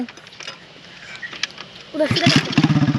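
A motorcycle is kick-started in a village setting: quiet clicks and faint talk come first, then the engine catches and runs with a loud, rapid pulsing putter close by.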